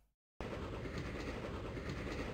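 Rumbling train running along tracks in a video game, a steady clickety-clack roll that starts abruptly after a brief silence and continues loud and unbroken.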